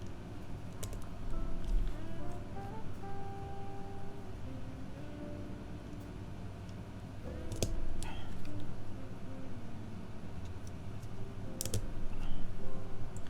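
Mechanical keyboard switches clack as someone types on a custom-built board, a steady close run of quick clicks over a continuous background hum, with a few sharper louder strikes standing out.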